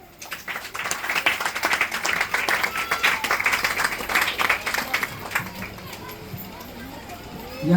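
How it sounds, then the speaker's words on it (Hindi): A church congregation clapping loudly and in unison after the pastor asks, a busy burst of many hands that swells and then tapers off toward the end, with faint voices and children's sounds mixed in. "अरे एक बार जोर से ताली बजाए"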